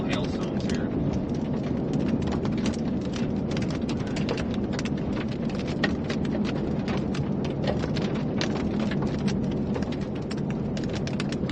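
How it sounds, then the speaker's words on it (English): Tiny hailstones and rain fall during a Texas storm, making a dense, steady patter with many sharp little clicks throughout. "Oh, there's some tiny little hailstones."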